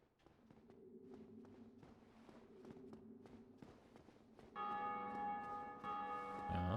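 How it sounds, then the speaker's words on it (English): Church bell tolls in Dark Souls, first a series of distant, regular bongs mixed with footsteps, then a loud, ringing bell that sustains near the end. "Yeah, a lot of bell bongers today."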